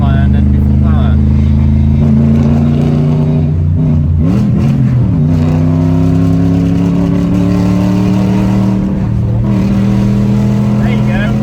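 A V8-swapped BMW E36 with a misfiring engine, a loud close rough idle of uneven harmonic drone that revs up and down in surges, stumbling then climbing, with someone talking over it.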